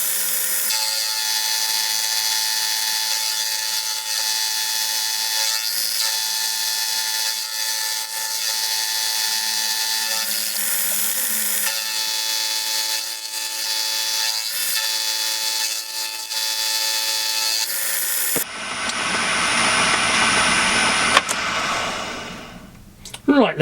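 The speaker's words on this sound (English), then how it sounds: "So let's start the motor up and start cutting." A milling machine with a vertical head cuts curved metal T-nuts on a rotary table, a steady loud machining whine and grind that runs continuously, then shifts to a harsher, noisier cutting sound near the end.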